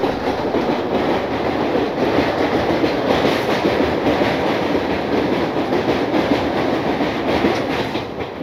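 The 13149 KanchanKanya Express from Sealdah rolls steadily toward New Mal Junction in the rainy season, a loud, continuous rumble of railcars with rhythmic clickety-clack of wheels over rail joints, heard from on board with no talk.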